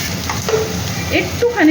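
Cumin and coriander powder masala sizzles in hot oil while being stir-fried for a mutton curry, a brief close crackle with a few scraping stirs of a spatula in the pan.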